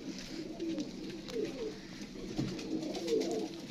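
Pigeons coo in low, rolling bursts on a rooftop loft in Faisalabad, several soft phrases repeating through the stretch over a steady faint background hum.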